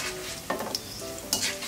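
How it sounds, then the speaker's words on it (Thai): Garlic sizzling and frying in oil in a wok while being stirred, a steady crackle broken by two sharper scraping stirs, close and fairly quiet. "เทคนิคการเจียวกระเทียมง่ายๆอย่างหนึ่งก็คือเราต้องหมั่นคนนะคะ"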